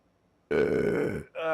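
A loud, drawn-out burp from a person, nearly a second long, rising out of near silence, followed by a short second belch-like sound.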